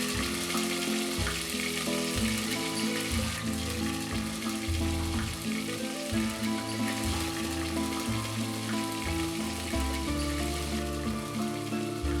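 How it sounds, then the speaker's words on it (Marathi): Onion paste frying in oil after curry leaves for an egg masala, a steady close sizzle with a bright crackle that runs alone throughout, under a layer of constant low hum. "यात कांद्याची पेस्ट घाला आणि ही पेस्ट तेलावर चांगली भाजून घ्या"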